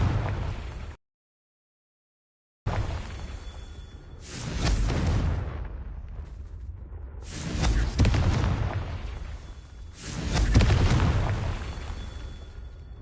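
Confringo fire spells blasting in Hogwarts Legacy, a run of loud, close explosive bursts with whooshing tails that come in three heavy waves after a short stretch of silence.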